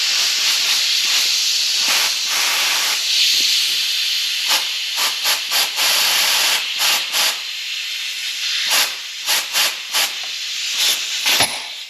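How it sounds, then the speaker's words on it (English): Compressed air hisses into a quad handlebar grip hole to pop the grip off, a loud steady blast broken by several short bursts and pauses, with no talking. "we're just going to put some compressed air on this"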